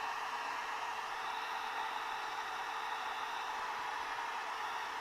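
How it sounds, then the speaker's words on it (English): A hairdryer blows steadily to dry alcohol ink on a surface, a continuous airy whoosh with a constant motor whir, close and unchanging throughout. "I just prefer a hairdryer because I don't have to be as careful"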